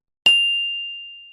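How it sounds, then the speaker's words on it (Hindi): A phone gives a single bright chime for an incoming call, a clean struck tone that rings out and slowly fades in otherwise silent surroundings. "जिमिन का फोन आ रहा है।"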